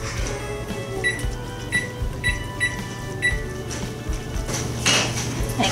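Boiling chocolate fudge icing stirred in a pot, a spoon knocking and clinking against the metal in a repeated rhythm about every half second over a low bubbling rumble, close and clear.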